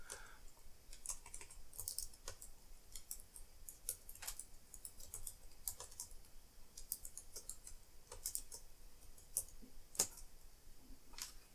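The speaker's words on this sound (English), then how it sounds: "Let's type the right command" Keys clatter on an Apple IIgs computer keyboard as a command is typed, with irregular bursts of sharp clicks and brief pauses, close and fairly quiet with no talking.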